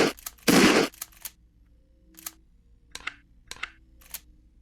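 Shotgun reload in an Unreal Engine Lyra game project: a loud mechanical clack, then a run of short, sharp clicks spaced roughly half a second apart as shells go in one at a time, fairly close and alone.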